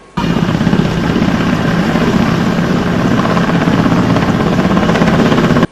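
A relief helicopter flies over a flood-hit area of Bihar, its rotor and engine a loud, steady, close roar that fills the whole stretch without a break.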